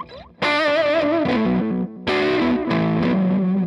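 Electric guitar solo, distorted and sustained, with a delay echo repeating each phrase, two loud bursts of bent notes separated by a brief gap, no talking.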